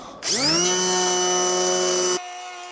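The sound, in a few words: electric planer shaping a steel packer for joists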